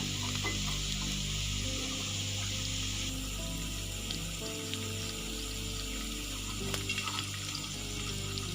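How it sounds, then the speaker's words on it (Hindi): Bread gulab jamun made with khoya fry in hot oil, a steady soft sizzle and bubbling hiss running evenly throughout with a few faint clinks and no talking. "2 मिनट के लिए हम इसे और फ्राई कर लेंगे"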